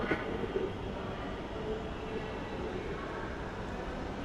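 A Dhaka MRT metro train stands at a station platform on the Motijheel–Uttara line, giving off a steady, even rumble and hum that fills the whole stretch with no clear breaks.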